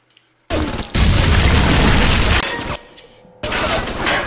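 A napalm burst in the video game BioShock gives a sudden loud, roaring whoosh that sustains for about two seconds, drops briefly, then flares up again close and dense.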